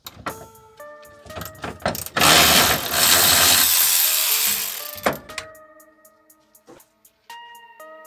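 Ratchet wrench clicking in short rapid bursts while bolts are run up on an adjustable carrier bearing drop for a 6.0 Powerstroke truck, with a longer stretch of dense mechanical whirring in the middle and sparse clicks and taps trailing off.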